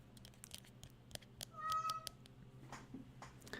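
A house cat meows indoors during a quiet, cozy night, with one clear drawn-out meow in the middle and soft rustling and faint taps around it, no talking.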